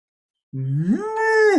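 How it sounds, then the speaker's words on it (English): A single loud, rising then sustained moo from a cow in Switzerland, close by, starting after a moment of silence and heard alone. "Oh, I can hear a cow there. That's a Swiss cow."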